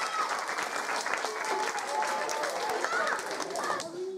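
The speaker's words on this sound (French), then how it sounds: "Applaudissez-le encore, hein, il est courageux quand même." An audience at a magic show applauds a brave volunteer, steady mid-level clapping for about four seconds with voices mixed in, then tapering off abruptly at the end.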